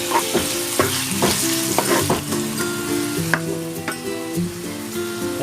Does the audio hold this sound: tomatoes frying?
yes